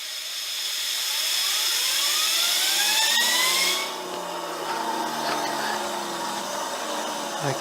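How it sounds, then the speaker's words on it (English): An air compressor blowing air onto a small turbine makes it spin up with a rising whine that climbs in pitch, then drops off to a lower steady whir, loud and close throughout. "I'll just put the compressor on the turbine"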